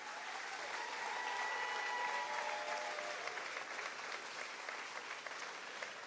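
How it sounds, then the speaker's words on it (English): Steady, dense applause from an outdoor audience at the Fancy Farm political picnic in Kentucky, a continuous even wash of clapping with no talk. "let's give everybody who's up here a round of applause if we could"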